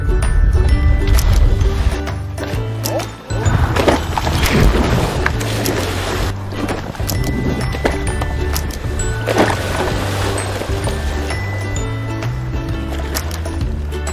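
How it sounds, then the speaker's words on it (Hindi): The engine of a Harry Potter style flying broomstick runs smoothly. It makes a loud, steady mechanical drone with a low humming tone and rattling texture, continuous for the whole stretch and with no voices. "क्या मैं पूछ सकता हूं कि आप इंजन के सुचारू रूप से चलने की आवाज सुन सकते हैं?"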